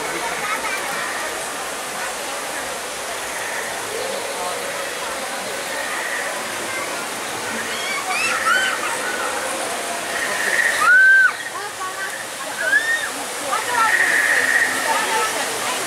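Water spurting and splashing at a Walt Disney World attraction, a steady rushing wash with people talking and reacting over it throughout.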